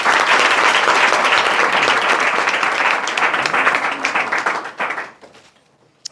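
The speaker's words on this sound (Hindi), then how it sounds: "जोरदार तालियां बजाइएगा भाई।" Loud, sustained applause from an audience at an event honouring selected police written-exam candidates, dense clapping that holds for about five seconds, then tapers off into scattered claps and near silence.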